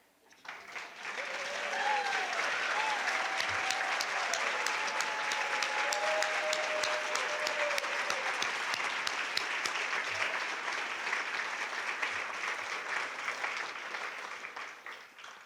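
Sustained applause fills a hall at a scholarship and awards banquet, a dense steady clapping from a large audience that swells quickly and tapers slowly, with faint voices beneath.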